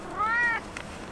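A single drawn-out cat meow, close and fairly clear, rising then falling, with quiet background noise, at a seaside campsite.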